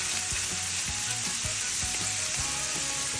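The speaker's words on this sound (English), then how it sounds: "Oh, we are adding the garlic." Garlic sizzles in a hot pan with a bright, steady crackle close up, with soft low knocks and stirring thumps underneath; no speech.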